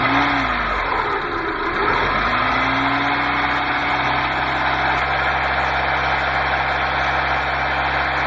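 Car engine held steady around 2,000 RPM while spinning an alternator, a loud, continuous mid-pitched drone with a brief dip and recovery early on, then an even sustained hum throughout.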